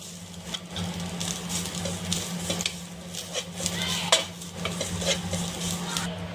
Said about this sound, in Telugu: ఈ పచ్చి కొబ్బరిని కూడా వేస్తాను ఫ్రెండ్స్ ఇది కూడా బాగా వేపకూడదు